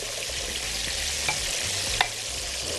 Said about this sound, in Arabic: نحط عصير الطماطم